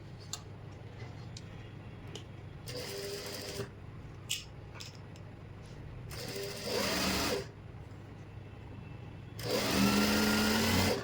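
A sewing machine stitches a pant seam in short separate runs, a soft mechanical ticking that builds into louder whirring bursts near the end, close and otherwise quiet.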